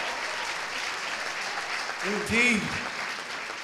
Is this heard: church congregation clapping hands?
yes